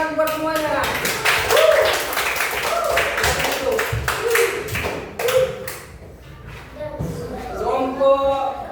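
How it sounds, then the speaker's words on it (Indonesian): Students in a classroom clap for their groups, giving brisk, uneven claps and taps close by. A teacher's voice and children's chatter run over the clapping throughout. "Tepuk tangan buat semuanya."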